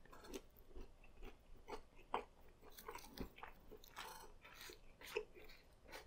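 A McDonald's chicken nugget is chewed close to the mic, a quiet run of soft repeated crunches and wet bites lasting several seconds, with no talking.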